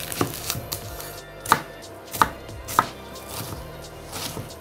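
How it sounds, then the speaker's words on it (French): A knife slices through an onion on a cutting board, a handful of sharp separate chops spaced about half a second apart, close and fairly quiet in a home kitchen. "En parallèle, on va émincer notre oignon."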